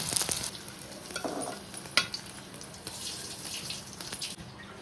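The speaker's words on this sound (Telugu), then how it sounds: "ఈ పనీర్ని నెయ్యిలో ఫ్రై చేసుకోవాలి." Paneer frying in ghee in a pan for paneer masala curry, a faint continuous sizzle with a few stirring clinks and one sharp knock partway through.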